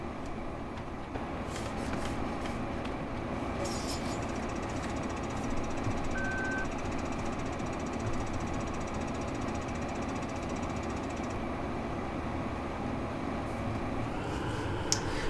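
Tractor engine idling beside a combine harvester in Farming Simulator 2015, a steady low rumbling drone that runs unbroken for the whole stretch with small clicks on top and no talking.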